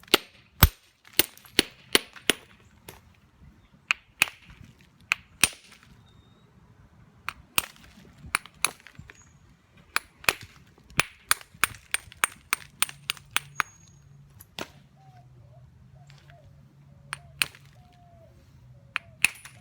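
Sharp stone-on-stone cracks ring out one after another as a hammerstone strikes a stone spall in direct percussion knapping, with uneven clusters of hits and short pauses between them.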